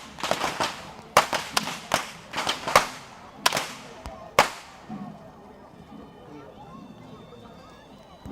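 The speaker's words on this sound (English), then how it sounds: "these whip wielders are the symbolic imagery to depict the sound of lightning, and thunder to pay homage to the rain gods" Whip wielders at the Kandy Esala Perahera street procession crack their whips in a rapid series of sharp, loud reports, some in quick pairs, then the cracks stop and fainter crowd and ambient noise remains.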